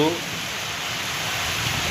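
A constant rushing roar of storm rain and wind through mango trees fills the clip, with a brief voice just at the start.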